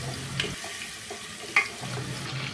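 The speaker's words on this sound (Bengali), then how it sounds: "তেলটা গরম হয়ে আসলে আমরা কাঁচামরিচ কুচো ঢেলে দিব। ঢেলে দিয়ে কিছুক্ষণ নাড়াচাড়া করব হালকা বাদামি হওয়ার জন্য।" Chopped green chillies frying in hot soybean oil in a pressure cooker while being stirred. A steady close sizzle runs throughout, with a couple of sharp clinks from the spoon and no voices.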